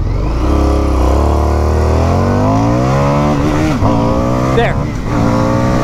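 Indian motorcycle engine pulling hard under acceleration, its steady rising drone climbing through the gears, loud and close with wind rush, a brief spoken word near the start.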